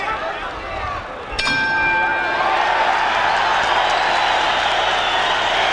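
At a boxing match in Arco Arena, Sacramento, a ringing bell strike is followed by a loud, sustained crowd roar and applause that swells and carries on, with a commentator talking over it.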